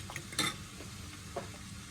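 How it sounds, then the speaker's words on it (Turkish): Egg mixture whisked in a bowl for a stuffed zucchini and eggplant dish, giving soft stirring scrapes with a few brief clinks of utensil on bowl, close and fairly quiet, no voices. "Bunu güzel bir çırpalım sonra da sürprize geçelim"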